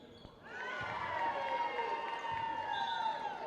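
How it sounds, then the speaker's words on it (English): Fans in a high school gym cheer and applaud the seniors at a Lynn Classical vs Saugus girls' basketball game: a sustained, dense wash of clapping and voices that swells after a brief quieter moment and stays steady. "The seniors getting a rousing round of applause from the"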